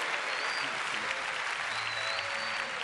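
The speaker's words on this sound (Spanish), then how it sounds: "quiero pedir un fuerte aplauso para estos maravillosos músicos" Audience at a live concert tribute to Mercedes Sosa applauds the musicians, a steady, dense wash of clapping from a large crowd with faint voices mixed in.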